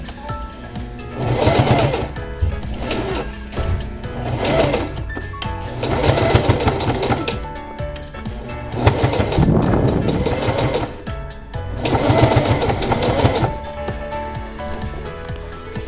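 Sewing machine stitching a dress lining piece at a two-centimetre seam allowance, running in repeated bursts of rapid mechanical whirring with short pauses between, close and steady.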